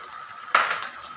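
Sardines sautéed in a pan give a single sudden sizzling hiss that swells quickly and fades over a fraction of a second, with a soft clink of a utensil and no talking.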